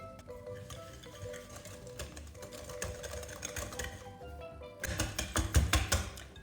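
Eggs and sugar whisked lightly in a bowl, quick rapid clicking of the whisk against the bowl, fairly quiet, growing brisker toward the end.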